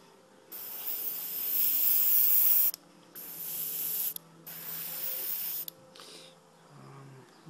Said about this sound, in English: I'm just going to spray just getting underneath the barrel here.